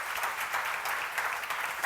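A congregation at a church seminar claps, a steady patter of many hands at moderate level, slightly distant, continuing briefly without talk.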